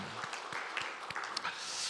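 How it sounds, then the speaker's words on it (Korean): A church congregation claps in praise during a Sunday Methodist worship service, a soft, steady patter of many hands with a few brief voices mixed in, heard at a moderate distance. "우리 하나님께 영광과 감사의 박수 올려드리겠습니다"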